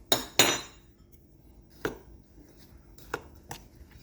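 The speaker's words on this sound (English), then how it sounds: "and we're going to mix it through," A spoon knocks and scrapes in a bowl while semolina cake batter with sugar, baking powder and baking soda gets stirred together: two loud clunks up front, then a few lighter, scattered taps.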